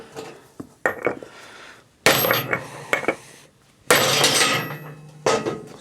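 Metal hammer blows strike a stuck part, likely an old broken flanged bushing, on a Craftsman 22hp 46-inch riding mower, landing in several sharp clanging bursts with pauses between them, close and loud.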